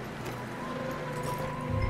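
Muffled, steady hoofbeats of a horse plodding through snow in the video game Red Dead Redemption 2, set against a low sustained musical drone.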